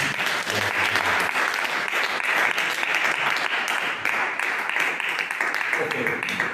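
A church congregation applauds, dense steady clapping that fills the space throughout, loud and continuous, with faint voices mixed underneath.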